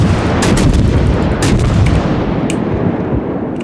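Heavy naval gun salvos from the cruiser Mogami in World of Warships, loud booming blasts in quick succession over a rumbling background, with no talking.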